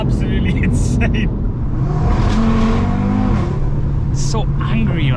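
Audi RS3 accelerating hard with wheelspin, a loud engine roar rising and revving with bursts of tire noise, while a person talks excitedly over it.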